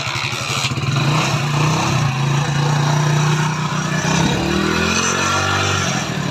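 Hero Splendor Plus motorcycle engine idling close by with a steady rapid thump, a brief rev near the end, loud and continuous with no talking.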